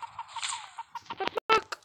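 Chicken clucking from a video game, a run of short bird calls at moderate volume with a few sharper clicks and bursts toward the end.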